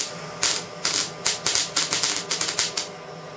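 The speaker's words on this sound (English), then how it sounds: "you can hear it going on, off, on, off" A MIG welder's wire feed stuttering on and off, a series of about a dozen sharp crackling bursts in irregular quick succession, fairly close and loud over a low background hum.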